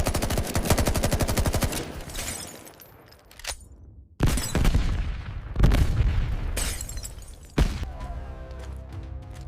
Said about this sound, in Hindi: Open fire!